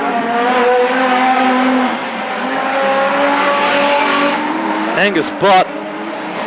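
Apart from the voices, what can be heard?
production sedan race cars racing on track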